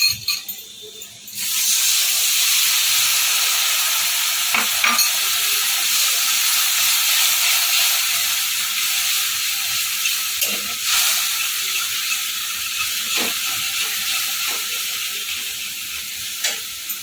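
Tamarind pulp poured into hot sambar dal sets off a sudden loud, bright sizzle that holds steady and slowly softens over many seconds, broken by a few faint clinks of stirring.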